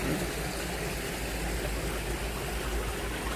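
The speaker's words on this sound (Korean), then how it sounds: "물소리가 아주 우렁차게 들리고 있습니다" Water flows loudly through a garden stream beneath a natural-stone bridge among summer flowers, a steady, full broadband rush holding even from start to finish with no other sounds.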